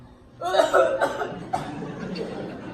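A single deep, rough cough sounds up close, followed by a couple of smaller hacking bursts that trail off.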